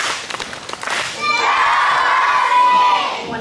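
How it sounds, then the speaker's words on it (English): A school morning meeting where a crowd of children breaks into a loud, sustained cheer with high shouting voices, preceded by a brief patter of claps and thumps. "Let's give them a big husky cheer."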